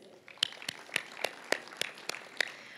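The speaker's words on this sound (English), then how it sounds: "we'll give them an applause" Sparse, scattered handclaps from a small audience at a chamber of commerce fall dinner, about eight distinct claps spread over a few seconds, soft and somewhat distant in a quiet room.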